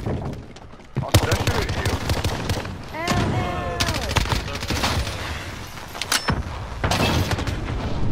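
Rapid gunfire and explosive bursts from incendiary grenade launcher rounds in a Call of Duty Modern Warfare hardpoint match, dense and loud throughout, with voices speaking over the combat.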